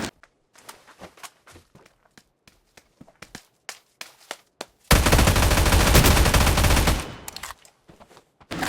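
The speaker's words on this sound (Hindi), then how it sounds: "बंदा अंदर आता है, उसके फुटस्टेप की आवाज़ आने लग जाती है" Footsteps of a player approaching in the NEW STATE Mobile battle royale game, a run of close, sharp, evenly spaced steps, broken midway by a loud two-second burst of gunfire, then more steps.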